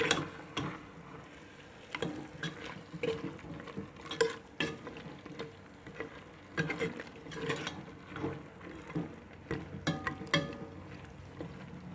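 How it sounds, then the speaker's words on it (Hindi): Beef is stirred and fried with spices in a pot, a steady sizzle broken by frequent scraping and clinking spoon strokes in an uneven rhythm throughout, close and moderately quiet, with no talking. "अब हम इन तमाम मसालों को गोश्त में अच्छी तरह से मिक्स कर देंगे और गोश्त को 10 से 15 मिनट तक के लिए अच्छी तरह भूनेंगे।"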